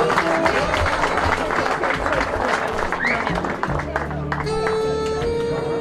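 Applause at a wedding evening celebration in Arabkhona, crowd clapping loud and steady throughout under music and festive noise.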